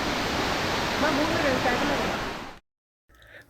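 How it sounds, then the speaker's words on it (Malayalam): Madasseri waterfall in Amboori, water cascading and foaming over small rocky slopes, heard as a steady broadband rush that cuts off abruptly near the end, with a brief faint murmur returning afterward. "റോഡിൽ നിന്നും നോക്കുമ്പോൾ ദൂരെ നിന്നും ചെറിയ ചരിവുകളിൽ തട്ടി പതഞ്ഞൊഴുകി വരുന്ന വെള്ളച്ചാട്ടം കാണാം"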